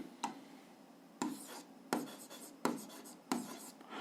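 Hand writing on paper during a seventh-grade algebra exercise, a series of about five separate scratchy strokes spaced roughly evenly, close and fairly quiet, with no talking.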